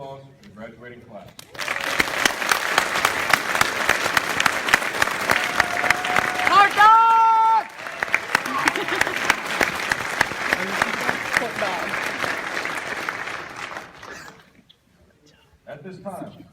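An audience at a Drill Sergeant Academy graduation at Fort Leonard Wood, Missouri, claps for the graduating class in a loud, sustained wave of applause lasting over twelve seconds, with a brief voice rising above it midway before it dies out.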